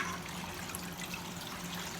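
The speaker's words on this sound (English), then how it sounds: "I'm going to put a little cold water over it" Cold tap water runs steadily over cooked bow tie pasta in a colander, a continuous close rushing trickle with no pauses.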